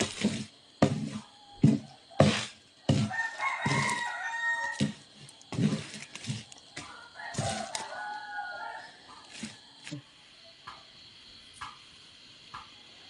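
A rooster crows a couple of times at moderate distance in a rural Thai village setting, mixed with people talking nearby and a few sharp knocks or thumps.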